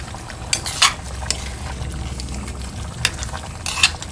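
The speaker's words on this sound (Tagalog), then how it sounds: "So haluin po natin konti" Chicken wings afritada with margarine being stirred in a pan, with a soft sizzle underneath and a few sharp utensil scrapes and clinks against the metal at scattered moments.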